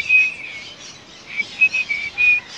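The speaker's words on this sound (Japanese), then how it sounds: "また来たな、あの鳥。" A bird calls during a Sunday morning walk in Cebu City, Philippines, giving bright repeated chirps and whistles, clustering into a quick series near the end against a quiet background.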